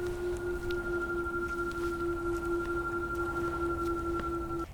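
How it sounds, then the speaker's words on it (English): A steady two-tone electronic drone from a 2022 Tesla Model Y's pedestrian warning speaker while reversing, held constant over faint background hiss. "about that pedestrian speaker, this is what it sounds like backing up"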